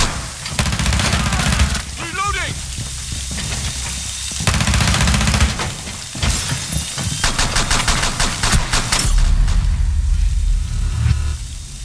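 Rainbow Six Siege gunfire crackles in dense, rapid bursts of automatic shots, loud and close, with brief pauses between volleys and some speech mixed in.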